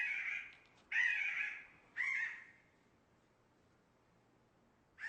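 A jay, a food-caching corvid, gives three loud, harsh calls about one second apart, followed by a quiet pause and the start of a fourth call at the very end.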